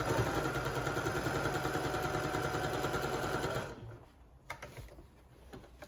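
A sewing machine stitching a fabric panel for an advent calendar, a steady, fast mechanical whirr for several seconds that stops abruptly, followed by a few faint handling clicks.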